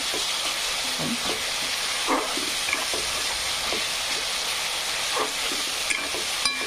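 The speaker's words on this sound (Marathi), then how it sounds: "टमाटर पण फ्राय झाले" Tomato gravy masala frying in oil in a pan, a continuous close sizzle with intermittent spoon scrapes and stirring clinks.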